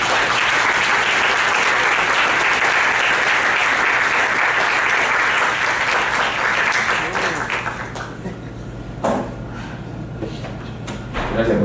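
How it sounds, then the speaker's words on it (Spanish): An audience at a football film festival talk gives a speaker a loud, sustained round of clapping. It fades after about eight seconds, leaving thumps, shuffling and a little talk. "Un aplauso por favor para él."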